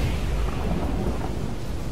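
Thunder and lightning rumble in the video game Immortals Fenyx Rising, a loud, continuous low roar of a storm with rain-like hiss, steady and close for the whole stretch.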